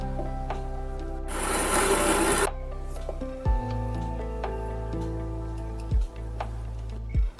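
Spices are ground into powder in one loud, whirring burst of about a second and a half that then cuts off, leaving a quieter background.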